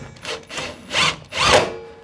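A cordless drill whirs in three or four short bursts, driving screws into wood up close while reassembling a BBQ grill, with brief pauses between each run.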